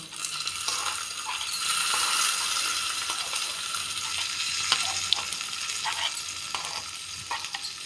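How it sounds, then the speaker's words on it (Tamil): Chana dal, green chilli, curry leaves, ginger and cashews crackle and sizzle steadily in hot oil for a tempering, with a few sharp pops and light clinks of a spoon over the continuous frying hiss. "கடலைப்பருப்பு பச்சை மிளகா கருவேப்பிலை இஞ்சி கேஷ்யூநட்லாம் சேர்த்து தாளிச்சுக்கலாம்"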